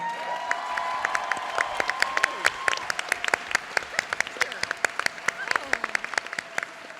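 A convention crowd at a cast panel applauds warmly, with many distinct loud claps over a continuous clapping bed and faint cheering and voices underneath.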